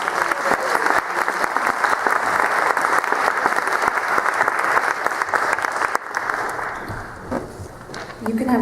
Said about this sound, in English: let's give them a big round of applause for their participation.